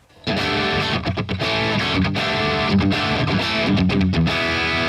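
A distorted electric guitar plays a chugging rhythm pattern, loud and sustained with choppy palm-muted breaks, with no voices.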